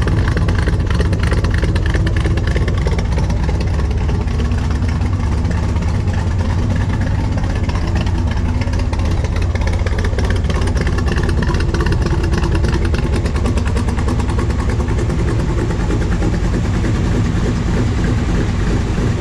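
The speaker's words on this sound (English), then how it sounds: "Let you hear the exhaust." A 1965 Chevrolet Corvette with the L79 327/350 V8 idles through its exhaust, a steady, loud, deep rumble with a constant low throb lasting throughout, no voices over it.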